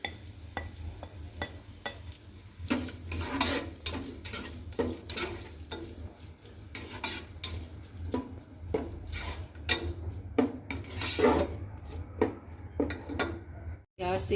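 Sliced onion and ginger browning in a pan for matar keema pulao: a steady sizzle runs throughout, with frequent stirring scrapes and clicks on top.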